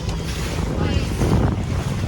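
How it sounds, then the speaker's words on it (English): Strong wind gusting across a bay, roaring steadily and buffeting the microphone, with water and boat noise mixed into a loud, continuous broadband rush. "It's windy as hell inside this bay for some reason."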